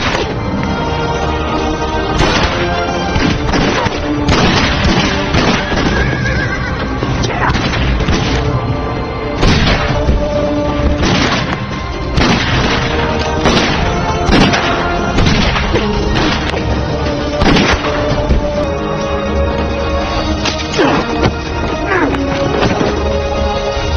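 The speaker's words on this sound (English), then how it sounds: "Heg is caught off guard when James draws quickly and opens fire" A film shootout between gunmen blasts with sharp, loud, repeated gunshots and crashes at an irregular pace over dense movie sound effects and score.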